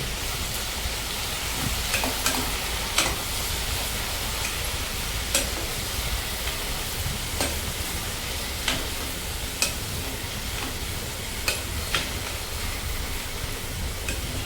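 Capsicum shallow frying in a pan, a steady broadband sizzle with scattered light clicks of spatula stirring, continuous and moderately loud with no talking.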